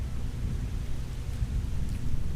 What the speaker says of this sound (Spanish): empezó una lluvia torrencial